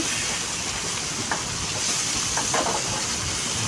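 Steam hisses steadily from a pan of fried yardlong beans with potato as the lid is lifted, a close, even sizzle-like wash with faint crackles and no voices.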